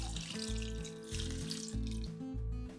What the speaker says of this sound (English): And 3 cups of veggie stock.